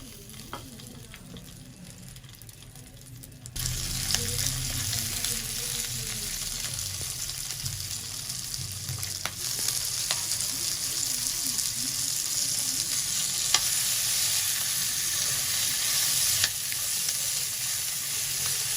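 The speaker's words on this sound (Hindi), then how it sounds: "अब इनको हम फ्राई कर लेंगे।" Green chillies drop into a little hot oil and set off a sudden loud, steady sizzle that crackles on continuously, with faint scraping of a spoon now and then, all near and without voices.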